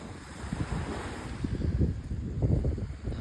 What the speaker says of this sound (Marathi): बघा फक्त पाण्याचा आवाज येतो बस